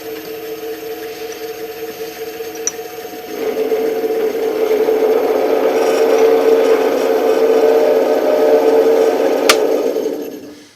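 Wood lathe spinning up at slow speed as the quill advances into a wood blank for pizza cutters, a steady low motor hum with rubbing grind that grows louder and fuller after a few seconds, then stops abruptly.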